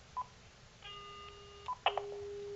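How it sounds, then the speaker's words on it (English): Uniden SSE25 cordless phone on speakerphone gives a couple of short key beeps, then a steady dial tone sets in and holds, clear against faint background hiss with no talking. "Dial tone out speakerphone there."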